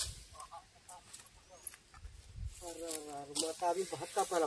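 Chickens cluck and squawk in short bursts, fairly close, on a farm during rice harvest, with people talking around them.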